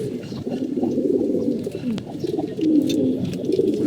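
Close, continuous cooing from several pigeons, a dense overlapping murmur throughout, with a person speaking faintly beneath it.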